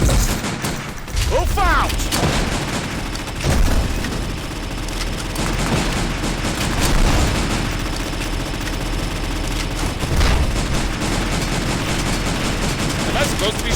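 Rapid bursts of gunfire from a weapon in a virtual reality shooting game, dense and loud throughout, with excited voices talking and shouting over the shooting.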